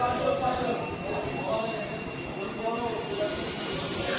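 The Kolkata–Sairang Express stands at Baharampur station, a steady broad rumble and hiss of the train with faint voices under it.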